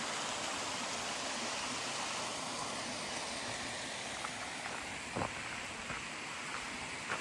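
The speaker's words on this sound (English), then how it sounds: "Nice little waterfall." A small waterfall on a creek beside an old mill runs in a steady, broadband rush that fills the whole clip, with a couple of faint, brief knocks over it near the end.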